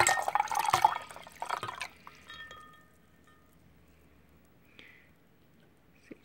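Water and a few partly melted ice cubes are poured out of a double-wall stainless steel vacuum tumbler. A close, busy splash and clatter lasts about two seconds, then thins to faint scattered drips.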